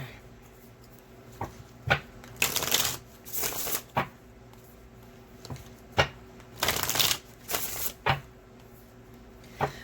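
A Vampire tarot card deck being shuffled by hand, close and crisp, in repeated riffling bursts of one to two seconds separated by short pauses.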